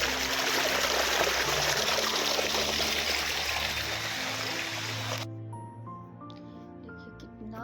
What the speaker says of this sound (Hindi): ये देखिए कितना प्यारा झरना है, कितना प्यारा नाला था यहाँ पे